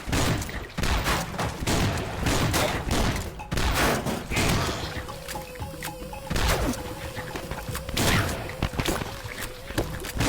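Rapid bursts of gunfire from the game Swamp Attack crackle repeatedly, with sharp shots and louder blasts scattered across a busy, dense mix of game sound.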